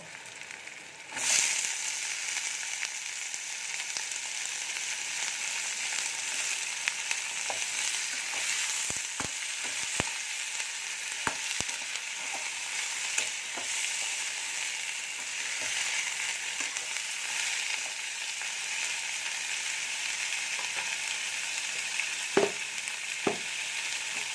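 Washed ivy gourds (kundri) fry in oil in a pan with onion, making a steady close sizzle with a sharp burst as they go in and occasional clicks of stirring, and no one speaking.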